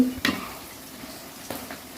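Garlic sautés in a pan for chicken curry, a soft sizzle under a couple of brief stirring scrapes and clinks, close and without talk.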